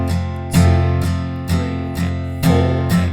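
Acoustic guitar strumming the chorus chords of a song, with sharp strums that are muted between hits and left with short pauses, a steady repeating rhythm, close and clear with no voice.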